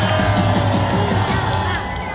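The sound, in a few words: crowd applause and cheering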